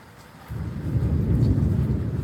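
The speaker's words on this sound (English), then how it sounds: "listen to that storm resonate" Thunder from an evening rain storm in Virginia rolls in as a deep, resonant rumble that swells suddenly and sustains, low and heavy over faint background rain.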